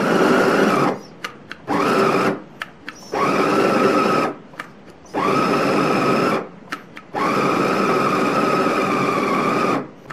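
An electric food chopper grinds chicken meat in a home kitchen. Its motor whirs loudly in four bursts of one to two seconds each, with short quiet gaps between them, and no one speaks.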